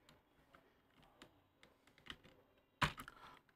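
Quiet computer keyboard typing with scattered light key ticks, ending in one sharper, louder keystroke like an enter press near the end, close-miked with no voices.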